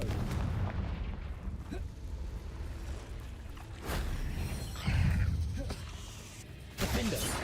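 Confringo fire spells blast during combat in the Hogwarts Legacy video game, with several booming explosive bursts rising over a rumbling battle din.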